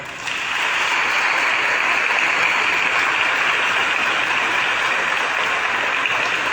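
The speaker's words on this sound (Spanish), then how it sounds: "Aplausos para ellos" A Catholic parish congregation applauds community members preparing to be disciples: a loud, continuous wash of many hands clapping that starts abruptly and holds steady throughout, with no voices over it.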